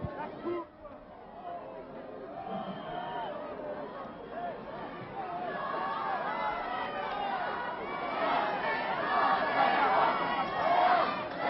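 A dense, enthusiastic crowd fills an outdoor garden party at the Élysée Palace, a steady swell of chatter, cheering voices and movement that grows louder toward the end, with a voice speaking over it early on.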